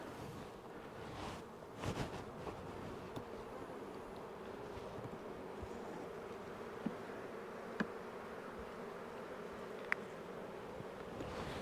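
Honeybees buzz around an open hive during a mite check, a continuous low hum that holds steady in the background, with a few faint clicks and knocks over the top.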